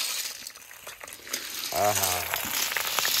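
Snails tumble into hot mustard oil in a wok with a clattering, crinkly rush of shells that settles into a hissing sizzle, and a voice speaks briefly midway.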